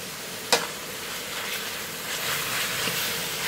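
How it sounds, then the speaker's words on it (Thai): Chicken offal stir-fried in a pan for a Lao-style dish sizzles steadily and fairly loud, with one sharp clink of the utensil early on and a soft scraping stir throughout. "ผัดไปเรื่อยๆนะคะ"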